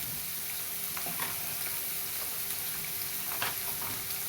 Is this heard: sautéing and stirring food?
yes